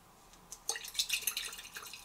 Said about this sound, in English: When the flask is shaken